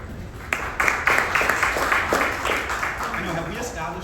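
Scattered audience clapping at a poetry reading by a poet, a handful of sharp claps building into a brief moderate round that thins out, with a voice murmuring underneath.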